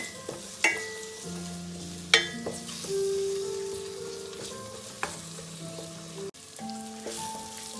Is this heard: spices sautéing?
yes